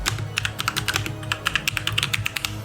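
Rapid, irregular keystrokes on a computer keyboard, close and crisp, forming a steady burst of typing with no voices.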